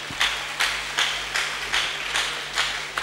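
A church congregation at a Sunday service claps in a steady rhythm, six or seven evenly spaced bursts of hand claps heard from a distance in a large room, with no talk over it.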